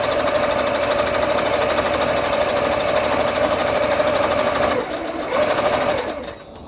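A sewing machine runs steadily, stitching knit fabric for a sewing pattern project, with a loud continuous whir that dips briefly near the end.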